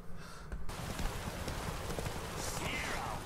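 Horse hooves clip-clop steadily through The Witcher 3 game audio, a continuous busy bed of rhythmic steps mixed with game ambience and occasional voices.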